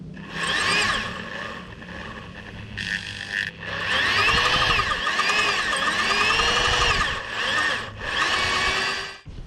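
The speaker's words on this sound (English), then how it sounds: "drill through all of it, see what we can do" A power drill whines in repeated bursts, its pitch rising and dipping as it bites through a broken metal wheel bolt on a Peugeot 407, close by with short pauses between.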